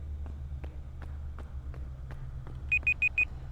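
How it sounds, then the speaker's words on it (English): A game timer alarm sounds four short, sharp beeps in quick succession over a low hum, following a run of faint, evenly spaced footsteps. "And that's my timer."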